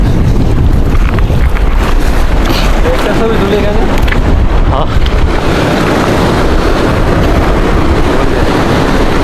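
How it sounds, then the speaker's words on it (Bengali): Loud, continuous roar of heavy surf and wind buffeting the microphone, with big waves crashing close by throughout, on Patuartek beach at Cox's Bazar. "কারণ বিশাল বিশাল ঢেউ আসতেছে"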